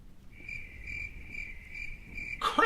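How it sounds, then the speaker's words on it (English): Crickets chirping, a steady high-pitched trill with a faint pulsing pattern against a quiet background, ending with a brief rustling noise. "Crickets?"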